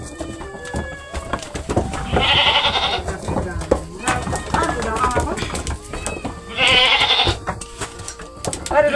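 Goats in a village farmyard bleat loudly in two long, wavering calls, close by, with people talking and moving around between and under the cries.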